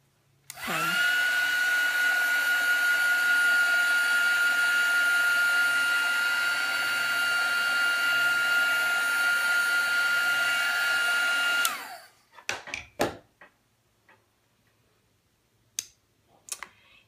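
A hair dryer blows steadily for about eleven seconds to dry ink on a painting, then switches off, followed by a few faint clicks and taps.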